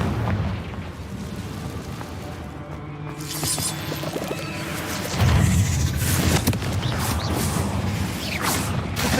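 A cast fire spell explodes in a fantasy wizard video game set in a cave, a loud, booming burst midway through amid clattering mechanical game sounds and a low rumble.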